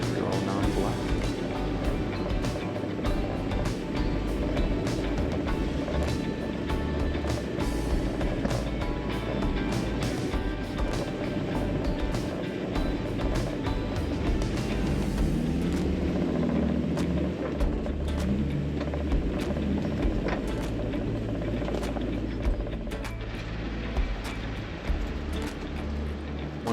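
Toyota Tacoma fitted with new gears and lockers crawling over an off-road obstacle, a continuous close engine rumble with wind buffeting, scraping and jostling noise throughout.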